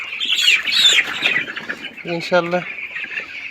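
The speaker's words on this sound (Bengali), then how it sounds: "মুরগি মাসাল্লাহ মোটামুটি ভালো আছে" Thirteen-day-old broiler chickens on a farm give high, busy peeping and clucking, moderately loud and close, as someone speaks briefly partway through.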